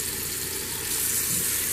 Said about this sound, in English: I'm going to go ahead and turn the water on